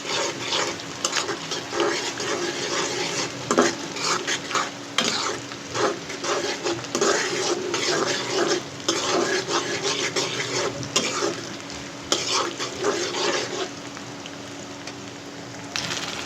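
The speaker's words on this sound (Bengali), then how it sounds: "একটু নরম নরম করে ভেজে নেব।" Chicken skin and wings sizzle steadily in a hot pan with onion, joined by repeated scraping and stirring strokes of a spatula, close and continuous with no talk.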